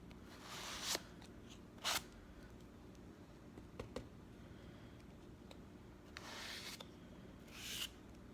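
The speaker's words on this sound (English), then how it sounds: "I just kind of smear it on with the edge of a credit card." Acrylic paint is smeared across a journal page with the edge of a credit card, making soft scraping swipes in short bursts, some several seconds apart, with small taps between them in a quiet room.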